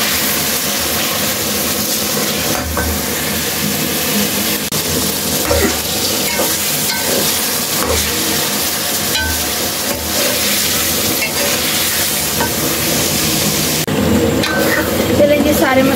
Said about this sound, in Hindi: टमाटर दही अदरक लहसुन पूरे मसाले डाल के अभी अच्छे तरीके से भून के ना